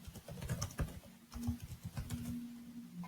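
Rapid keystrokes on a computer keyboard while a quiz question is typed, an irregular run of close, light clicks lasting a few seconds with no talk.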